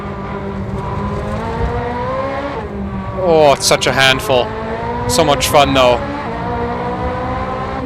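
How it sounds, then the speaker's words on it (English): A Ferrari racing engine in the video game Assetto Corsa revs and downshifts with quick rising and falling bursts, loud over steady engine drone, while a person talks throughout. "listen to that engine, listen to the downshift"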